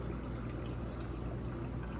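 Liquid pours steadily into a jar of green beans being pickled, a continuous soft trickling wash at low level with no talking.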